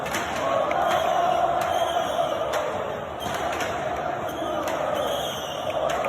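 Large Corinthians football crowd protesting ticket prices inside a stadium during a match, a steady distant roar of massed voices with sharp bangs and cracks popping through at intervals.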